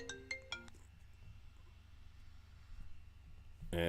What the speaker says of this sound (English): Oh, look, we have a phone call.